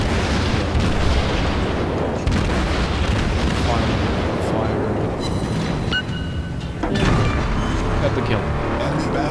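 Battleship destroyed in World of Warships naval combat: dense, continuous roar of gunfire and explosions with rumbling blasts throughout, a brief lull near the end before the din swells again, a voice talking over the battle noise.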